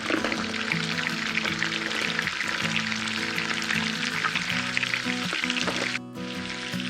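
Sauce with capers, garlic, black pepper, lemon and salt bubbles in a pan beside white bass, a loud, dense sizzling hiss that drops abruptly near the end, with no talking.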